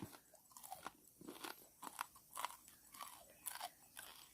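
Close, quiet crunching as someone chews crispy food, with steady rhythmic bites and no talking.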